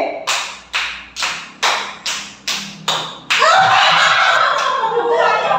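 A group claps in unison to a call-and-response pattern during a teachers' training session, seven sharp, evenly spaced claps ringing out before the room breaks into a loud burst of mixed voices.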